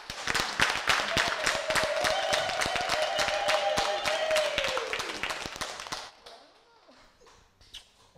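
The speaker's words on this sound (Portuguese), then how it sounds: "Uma salva de palmas." An audience claps steadily for a singer, dense loud applause with a held voice over it, then fading into a quiet room with scattered sounds.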